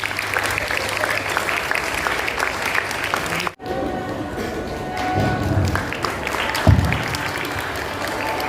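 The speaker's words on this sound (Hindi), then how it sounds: "तालियों के साथ अपने साथियों की हौसला अफजाई कीजिए" Audience applause for performers at a Ghalib celebration, steady and dense clapping that breaks off for a moment, then resumes with a few louder thumps.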